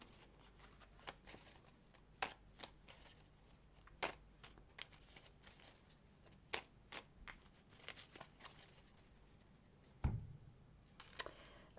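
Tarot or oracle cards are shuffled and handled for a reading, giving close, irregular soft slaps and riffling clicks with a heavier thump near the end.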